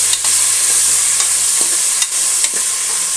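Fresh peas being stirred in a hot pan for palak paneer pulao, a steady loud sizzle with a few light spoon scrapes, close up and without speech.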